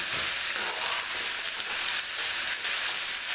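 Onions fry in a pan for onion-tomato chutney, making a steady, close hissing sizzle with faint stirring movement throughout.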